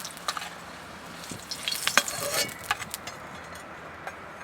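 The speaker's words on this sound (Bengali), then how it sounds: "এই আলুগুলো ভালো করে ভাজা হয়ে গেছে, আমি এবার তুলে নেবো।" Potatoes fry in a pan with a soft, constant sizzle, while a burst of scraping and clinking stirs comes near the middle before the sound settles back down.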